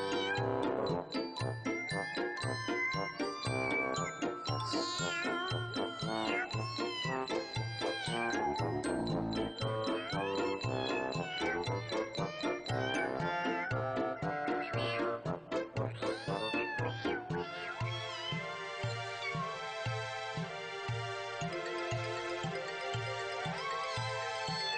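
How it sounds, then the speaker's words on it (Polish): Cats meow and caterwaul in a rhythmic, sung pattern, loud and continuous against a bouncy musical accompaniment throughout. "Trzech sławnych śpiewaków, koty."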